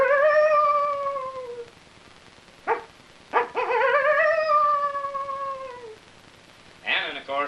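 Coyotes howl on a prairie at night, with several long rising and falling wavering howls and short yips, fairly close, with quiet gaps between calls.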